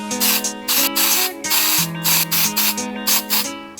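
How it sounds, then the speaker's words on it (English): Short hissing bursts of black spray paint from an aerosol can, repeated in quick rhythmic pulses, close by, with a rattly buzzing tone underneath. "take some black spray paint, spray over the stripes"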